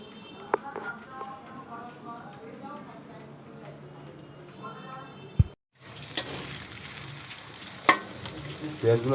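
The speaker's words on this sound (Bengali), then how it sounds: "পেঁয়াজগুলো ভাজে তারপর এগুলো সুন্দর করে বেরেস্তা করে নিচ্ছি।" Onions frying in hot oil until browned and crisp for a home-style chicken biryani, a steady close sizzle with occasional stirring clatters, a sharp utensil knock midway, then louder, brighter crackling.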